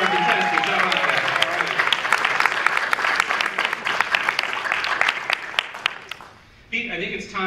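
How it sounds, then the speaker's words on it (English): A campus game show audience applauds the contestants, with crisp, dense clapping that stays steady and then stops abruptly, followed by a voice speaking over the room near the end. "Give a round of applause for our contestants."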